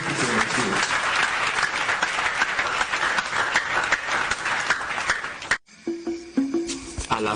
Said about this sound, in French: s'il vous plaît, applaudissez tous ces messieurs.